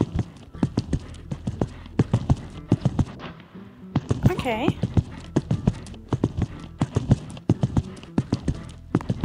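Horse hooves clip-clop in a quick, steady rhythm of sharp knocks in a video game, while a voice talks over them and a brief whinny rises midway.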